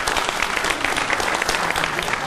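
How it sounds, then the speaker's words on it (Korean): Steady applause from a crowd at a cross-country running event, dense clapping at an even loudness throughout with no pauses. "다시 한번 박수 부탁드립니다."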